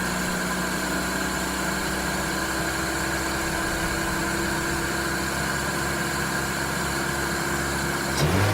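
A Suzuki Ignis Sport engine idles steadily after a head gasket repair. It makes an even, continuous hum at moderate level with no revving, and a brief louder bump comes right at the end.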